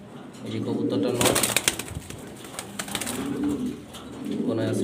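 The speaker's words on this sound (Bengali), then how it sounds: "ঝর্ণা শাটিন কবুতর আপনাদের জন্য নিয়ে আসলাম" Jharna satin pigeons cooing in soft, low rolling bursts close by, with a flutter of wings and rustling in the middle.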